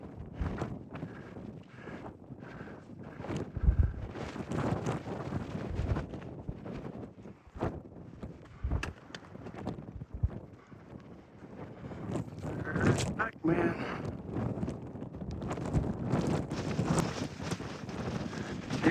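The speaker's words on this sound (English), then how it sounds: "Yep, it's a bit windy." Gusty wind buffets the microphone on an exposed summit ridge of Mount Jefferson in the White Mountains, rising and falling in loud roaring bursts with some faint footstep-like thuds underneath.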